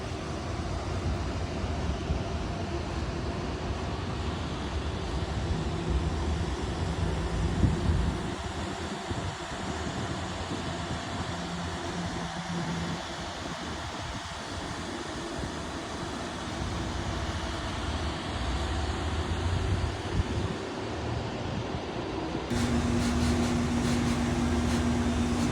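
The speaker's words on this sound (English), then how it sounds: "The air conditioner sounds to be working really hard." An air conditioner runs hard on a very hot day, a steady broadband roar and hum that stays even throughout with slight wind-like fluctuations. The tone shifts near the end.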